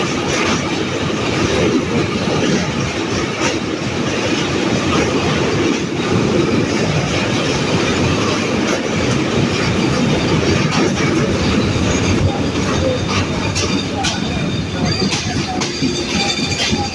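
The Chitra Express rolls across the Baral bridge in Pabna with a steady, loud rumble and continuous clickety-clack of wheels on rails, heard from inside the train, with occasional faint squeals and some talk in the background.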